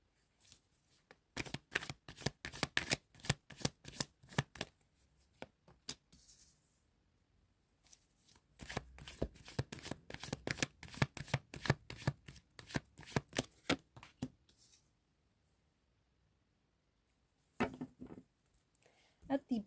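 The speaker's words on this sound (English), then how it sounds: "At the bottom of the deck is the Wheel of Fortune." A deck of tarot cards is shuffled by hand in repeated quick bursts of crisp flicking and riffling, separated by brief pauses, close and clear.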